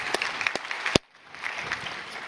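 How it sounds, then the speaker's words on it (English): An audience at a conference applauds with scattered, moderately distant claps that stop abruptly, followed by a quiet room murmur. "Round of applause for these folks."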